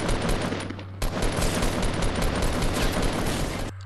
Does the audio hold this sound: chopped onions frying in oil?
no